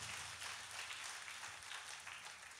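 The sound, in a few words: audience applause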